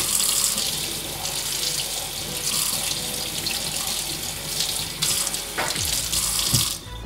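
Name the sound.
water running over Allbirds Wool Dasher Mizzle shoe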